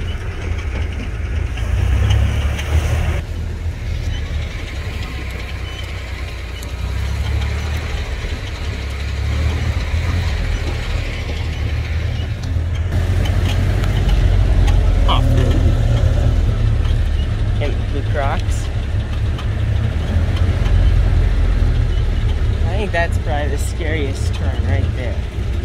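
A Jeep engine drones steadily and loudly as it climbs Bowes Hill, a continuous mid-pitched rumble with shifting load, while people talk inside over the motor.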